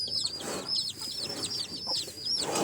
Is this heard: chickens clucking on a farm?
yes